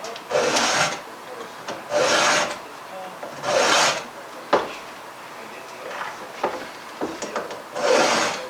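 Rhythmic rasping strokes of a file sharpening the chain of a 440 chainsaw, several bursts with short pauses, close up and alone.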